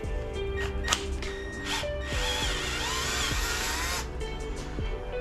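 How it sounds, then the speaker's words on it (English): A drill bit bores out a hole in a 1993 Honda Civic engine block in a garage, a rising whirring grind sustained for about two seconds between scattered clicks and metallic taps, fairly close. "we're gonna drill this hole out with this drill bit"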